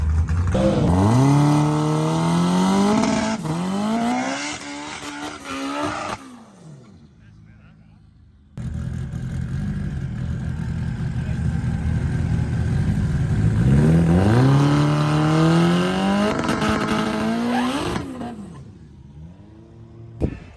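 A 1000HP K24-powered rear-wheel-drive drag car launches at 18 PSI of boost, its engine climbing through loud rising revs, cutting out briefly, then roaring up again. A voice talks over it.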